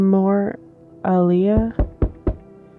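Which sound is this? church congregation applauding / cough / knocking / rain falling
knocking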